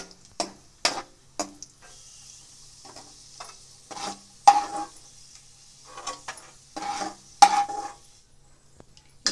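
Raisins and cashews roast in ghee as a spoon stirs and scrapes the pan, making intermittent close clinks and soft sizzling bursts with quiet gaps between.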